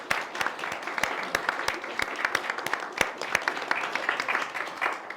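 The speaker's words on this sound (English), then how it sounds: "I think that deserves a round of applause." Guests at a wedding ceremony in a barn near Diss break into steady, lively applause, dense overlapping claps with sharp individual hand strikes standing out, filling the room for several seconds.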